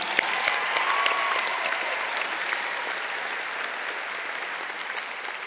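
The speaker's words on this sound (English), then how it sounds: "Can we give Issa one more round of applause?" Sustained audience applause fills a commencement ceremony for the College of Liberal Arts & Sciences, a dense, steady wash of many hands clapping that fades slightly toward the end, with a few stray whistles or voices above it.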